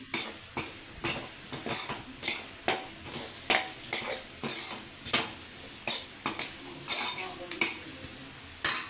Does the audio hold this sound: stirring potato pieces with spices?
yes